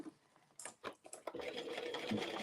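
A sewing machine stitching a seam on a circle bag, starting with a few quiet clicks and taps before settling into a steady, continuous mechanical whir of rapid stitching.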